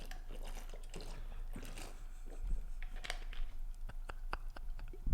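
A person gulps water quickly in a run of wet swallowing and liquid sounds. It is close and moderately loud, with faint background noise and some brief clicks.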